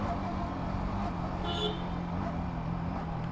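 A Yamaha XSR motorcycle on a road braking test gives a steady, loud rush of engine and road noise with wind buffeting throughout and no clear change as it slows.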